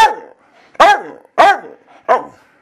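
An angry dog barks loudly and close, three or four harsh barks at uneven intervals, with a low growling whine leading in at the start and no talk over it.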